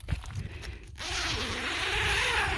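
Zipper on a pop-up camping shower tent drawn in one steady pull lasting about a second and a half, close and fairly loud after a brief rustle of handling.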